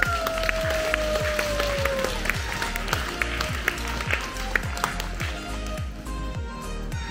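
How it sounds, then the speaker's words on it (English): Crowd applause at a Flores de Mayo Santacruzan celebration, steady clapping heard over a pounding rhythmic music beat that runs throughout, with a faint tone early on. "What about a round of applause?"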